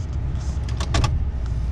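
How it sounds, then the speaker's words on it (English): A truck's windshield wiper motor hums beneath the rumble of the running truck, with a couple of short squeaky sweeps across the glass, close and moderately loud. "A windshield wiper."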